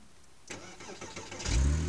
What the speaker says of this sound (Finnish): tää kuulostaa, kun laitetaan käyntiin.